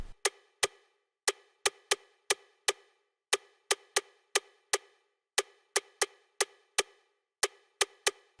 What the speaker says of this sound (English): So your rim should sound like this.